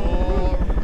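A helicopter in the VR game Mosh Pit Simulator thumps with fast, rhythmic rotor chopping under a steady engine whine, loud and close throughout.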